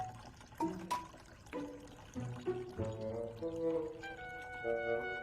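Boiling water poured for tea, a faint series of trickling, splashing pours and rising liquid tones, with short separate bursts that run into a steadier fill toward the end.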